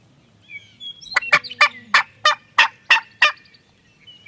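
Wild turkeys gobbling outdoors in Nebraska: a rapid series of about nine sharp, rattling gobble pulses, moderately close, over a faint wind-like background.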